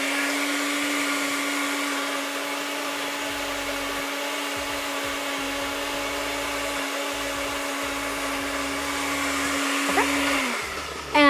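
A blender whirs steadily as it processes a green potato salad dressing, a loud, even motor drone heard alone that holds for about ten seconds before winding down at the end.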